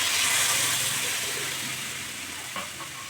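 Bottle gourd stirred with spices and milk in a hot pan, a steady close sizzle and hiss with faint stirring scrapes that fades slightly as the milk cools the pan.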